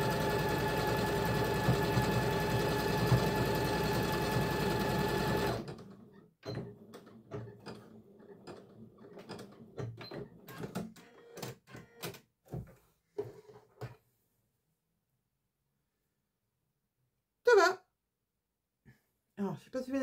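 A sewing machine stitches a zigzag in a fast, steady mechanical chatter for about five seconds, then stops. Scattered clicks and handling noises follow, with a brief voice near the end.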